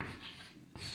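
Marker or chalk writing on a board during a Hindi chemistry lecture on vapour pressure, a steady broadband scratchy stroke with a brief pause and a sharp restart near the end, close and alone without speech.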